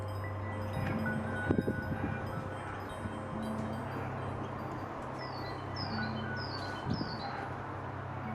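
Small garden birds give quiet, squeaky twittering calls in short repeated bursts over steady background rumble, with a few lower chirps near and far.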